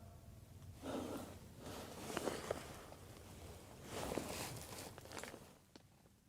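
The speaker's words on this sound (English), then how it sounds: "Footsteps." Footsteps crunch outside a tent at night, heard from inside it as muffled, uneven treads that swell twice over a steady low background rumble.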